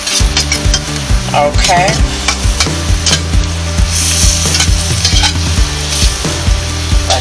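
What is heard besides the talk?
asparagus sautéing on high heat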